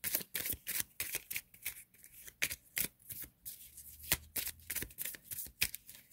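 A deck of tarot cards shuffled by hand, close and crisp, with rapid repeated flicking and riffling bursts in an uneven rhythm throughout.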